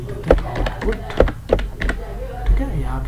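Keys on a computer keyboard are tapped while a spreadsheet formula is entered, a few scattered clicks heard close under someone speaking steadily throughout.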